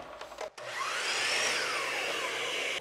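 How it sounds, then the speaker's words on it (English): A shop vacuum roars steadily while a power saw cuts laminate flooring, a loud whining drone that kicks in after a brief pause and runs continuously. "as soon as I use the saw, the vacuum's already working"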